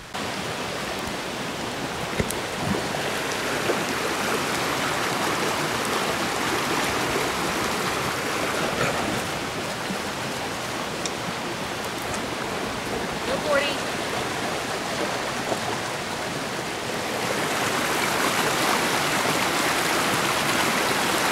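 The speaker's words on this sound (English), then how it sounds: "Let's go down by the river." A river in Asheville, North Carolina rushes in a steady, broadband wash of flowing water, constant throughout and swelling slightly louder near the end, with no talk over it.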